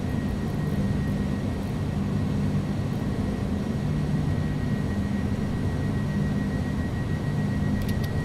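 An Airbus A300 BelugaST in the X-Plane 11 flight simulator climbs out with its jet engines at climb power. The roar is a steady, even drone heard from inside, with no talk over it.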